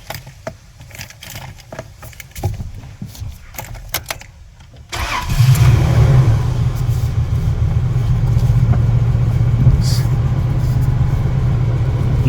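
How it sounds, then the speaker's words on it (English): A Holden Rodeo (Isuzu) engine cranks and catches near the five-second mark, then settles into a steady, loud rumbling idle that runs alone to the end, after a quieter stretch of faint clicks and background noise. "So when you start the car"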